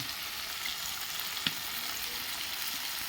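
Onions and spices fry in a pan with a steady, faint sizzle and one small click partway through, with no talk.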